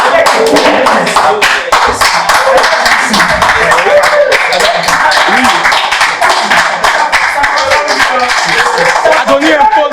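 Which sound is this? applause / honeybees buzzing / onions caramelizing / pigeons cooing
applause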